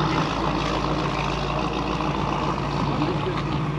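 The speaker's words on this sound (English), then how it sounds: "Daddy wants to get the sound of Eric's new car." A car engine idles with a steady, low rumble that holds even and continuous throughout, close by with some outdoor background noise at a Cars and Coffee meet.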